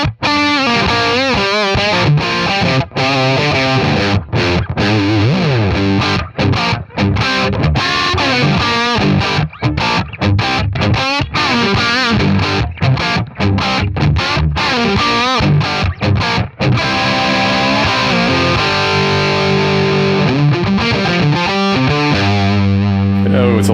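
Electric guitar on a full humbucker pickup with the tone turned up, driven through a Donner mini distortion pedal at high gain, plays continuous loud, saturated chords and riffs with brief gaps and no talking over it.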